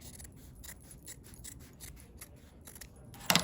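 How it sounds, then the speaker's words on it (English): Scissors cutting a folded fabric sample in half, a run of quick, regular crisp snips close by, ending in a louder rustle of cloth. "you can just fold it in half and then cut down the center"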